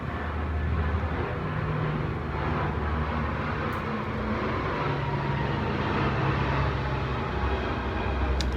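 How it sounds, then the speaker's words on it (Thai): A low-flying airplane coming in to land at a nearby airport passes overhead, a steady loud broadband roar that fills the whole stretch, with no talk over it. "เวลาเครื่องบินลงมันจะเหมือนบินต่ำพอบินต่ำมันก็เลยแบบว่าเสียงมันจะดัง"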